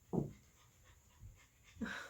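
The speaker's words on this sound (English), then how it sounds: "both of my puppies are coming in here" A puppy pants in quick, faint bursts close by, short breathy puffs separated by quiet gaps, with no talking.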